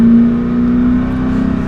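A supercharged Corvette Stingray engine, about 150 horsepower over stock, drones steadily at high load on a race track, a loud, close, sustained tone with slight rising pitch.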